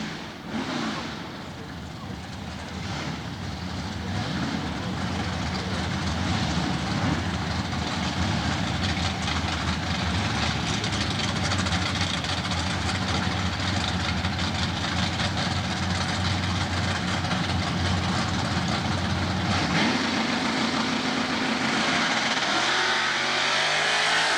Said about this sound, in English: Pete Dugan up on the Tucker, Georgia-based Pontiac, 455 cubic inch poncho under the hood, going up against Wayne Bramlett